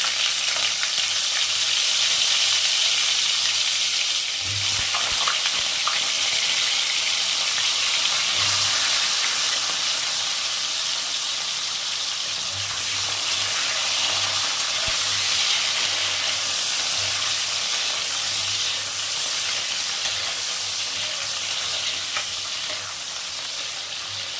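Potatoes sizzle loudly and continuously in hot oil with cumin seeds, a steady crackling hiss with occasional stirring knocks, no talking.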